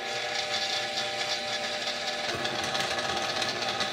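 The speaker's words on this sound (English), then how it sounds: "Okay, so now I'm going to turn on the mixer." Electric stand mixer running steadily while mixing bread dough, a continuous close motor whir with a dense, even hum and slight shift in tone partway through.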